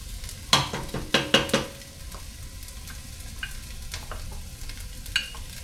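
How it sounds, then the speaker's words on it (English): Onions frying in a pot for chili give a low, steady sizzle, with a few sharp clatters of stirring near the start and light scraping later; no one speaks. "Put the onions in there."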